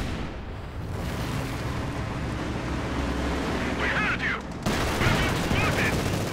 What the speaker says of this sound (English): Sturmpanzer IV fires and fails to penetrate.